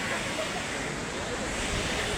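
Sea waves wash onto the Ratnagiri coast in a steady, broad roar mixed with wind noise, with people talking over the surf.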